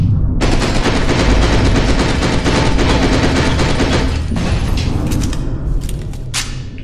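Sustained, loud Uzi submachine gun fire in F.E.A.R. 2, a dense rapid-fire burst running nearly seven seconds with no break, tapering slightly at the end.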